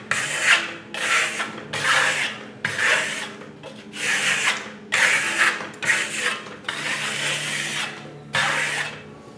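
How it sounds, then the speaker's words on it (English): A steel trowel burnishes Italian Firmolux lime plaster on a wall under medium pressure, giving close, steady rasping strokes in a regular back-and-forth rhythm, about a dozen sweeps with short pauses between them. "As you're burnishing, you can feel where you've gone and you can feel how smooth it is"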